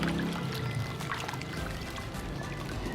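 Dye solution poured and splashed repeatedly over fabric during tie-dyeing, a steady close watery pouring and sloshing with no voices.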